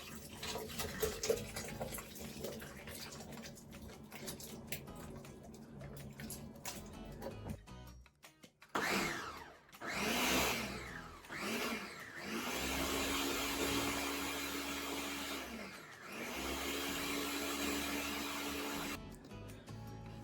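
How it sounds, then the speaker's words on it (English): A blender whirs through tomato soup in a kitchen, a harsh, loud motor roar that starts, pauses and restarts in long bursts after a stretch of quieter background noise. "So we gotta put this in the blender so it will all blend up and be soupy and not soupy."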